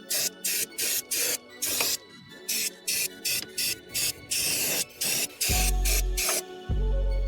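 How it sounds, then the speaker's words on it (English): Repeated short bursts of brake cleaner aerosol spray hiss close by onto the edges of a BMW E46 aluminium rocker cover, a quick series of sharp blasts, followed by a couple of longer, heavier sprays. "get some brake cleaner and just spray down these edges"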